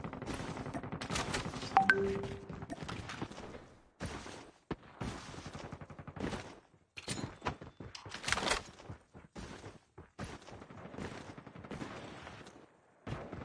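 Bursts of video-game gunfire come through in short clusters separated by gaps, fairly quiet and distant in the mix, with occasional louder shots.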